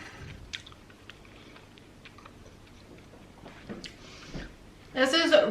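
Someone chews a fried Indiana pork tenderloin sandwich up close, with soft, irregular bites and crunches, then a louder burst of crunching near the end; brief murmurs accompany the eating.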